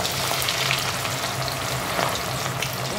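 Meatballs, some still partly frozen, sear in a hot frying pan with a close, steady, crackling sizzle that holds evenly throughout.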